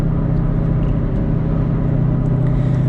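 2008 Toyota Prius with around 165,000 miles driving on a wet road in the rain, a steady cabin rumble of road and tire noise with a low droning hum throughout.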